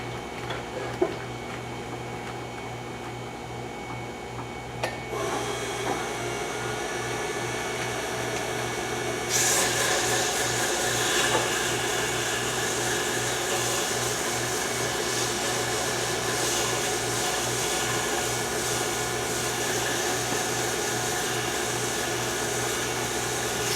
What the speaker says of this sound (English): I'll sand it. I'll probably start out with maybe 240.